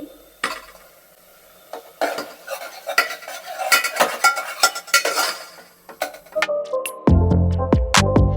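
A utensil scrapes and knocks repeatedly around a large metal pot of curdled milk in quick irregular strokes, followed by clattering and a clink near the end.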